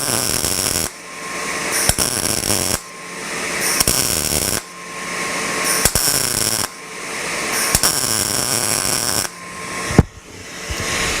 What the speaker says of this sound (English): I'm going to go right around in a circle and just let it fill up with weld.